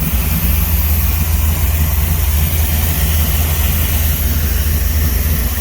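A 640-horsepower Dodge Charger muscle car engine with a four-speed idles steadily with a deep, rumbling low-end throb, loud and continuous throughout.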